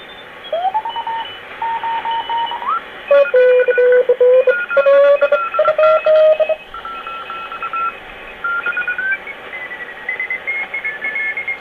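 Radio signals on the 40-meter amateur band chirp and beep in bursts while the band is tuned, tones sliding and shifting pitch against a hiss, with brief gaps between transmissions.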